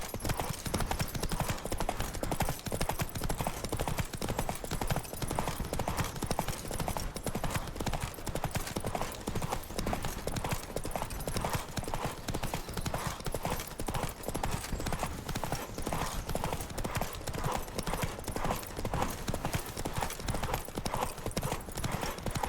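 Rapid galloping hoofbeats pound steadily throughout a horse race in the video game The Witcher, loud and close, with a rider's voice shouting briefly over the drumming hooves.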